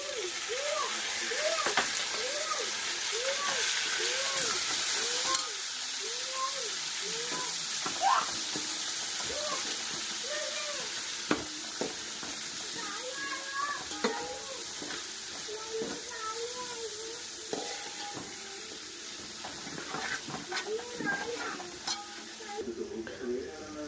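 Potatoes frying in a pan for aloo khichdi, with tomatoes tipped in, give a steady close sizzle under repeated stirring and scraping, while a voice talks over much of it.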